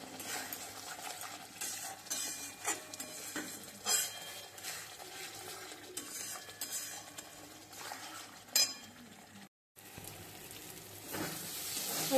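Masala for egg curry frying and being stirred in a home kitchen pan, a steady sizzle with scraping utensil strokes and occasional clinks, close and continuous with a brief dropout near the end.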